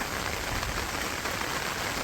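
Steady rain falls on a rainy day as an even, close hiss of dense drops that continues with no pause, and no voices can be heard.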